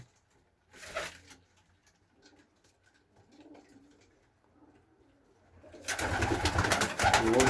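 Pakistani and Iranian pigeons being moved into a racing loft, with faint soft cooing and rustling through the middle, then a loud burst of flapping or handling noise close by near the end.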